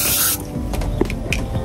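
A spray bottle lets out one sharp burst of hissing mist at a rural hut, then quiet handling and light rustling follow.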